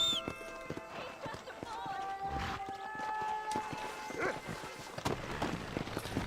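Horses galloping in Red Dead Redemption on Xbox 360, rapid clip-clop hoofbeats with a whinny and game music tones, moderately close, while voices talk over them.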